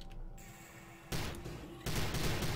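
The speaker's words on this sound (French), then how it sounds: "Le flingue fait un bruit de roulement de caisse claire" Gunfire in the video game Prey comes as dense, rattling bursts like a snare drum roll, two loud sustained volleys after a quieter stretch, close and alone without talk.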